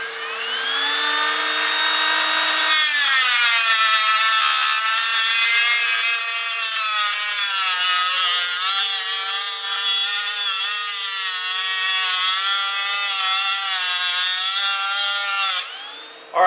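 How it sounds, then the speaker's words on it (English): A cutting tool whines steadily as it slices lengthwise along a pit bike engine casing, a sustained high-pitched tonal drone that shifts pitch as the blade bites, loud and close, stopping abruptly near the end. "I'm going to cut long ways along the casing so I can split it."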